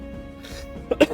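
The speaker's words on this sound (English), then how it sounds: "Excuse the coughing." Two or three short, sharp coughs close to the microphone come at the end, following a moment of quiet room sound.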